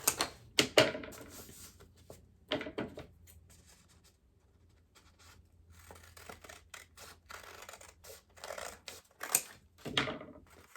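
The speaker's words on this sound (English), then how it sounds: "then you can cut out everything together" Scissors cutting through stacked paper squares for a paper rose craft, giving a run of close, crisp snips and rustles with short pauses between cuts, no one talking.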